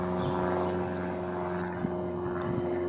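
A Cessna propeller plane drones overhead, a steady moderate hum with even harmonic tones holding throughout, no voices present.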